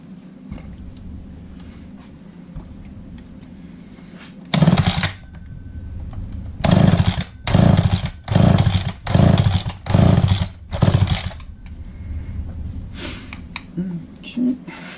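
A McCulloch 7-10 chainsaw with a freshly rebuilt carburetor is pull-started again and again: six or seven loud, evenly spaced bursts of rough engine sputter that never catch, with quieter pauses between.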